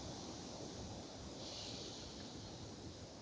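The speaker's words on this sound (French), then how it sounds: "Peut-être profiter du vent si vous l'entendez à travers le micro." Steady broadband rushing of wind buffeting a microphone, loud and continuous throughout, with no voices.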